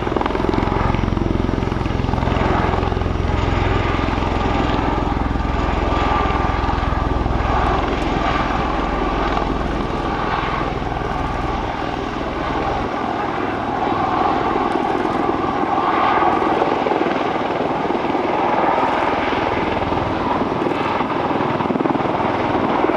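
CV-22 Osprey tiltrotor aircraft flying slowly at about 70 miles per hour during an airshow demonstration, a loud, steady rotor roar with deep low-frequency throb that holds throughout, easing slightly toward the end.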